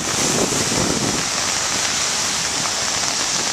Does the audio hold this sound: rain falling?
yes